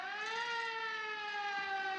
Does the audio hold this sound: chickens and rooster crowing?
no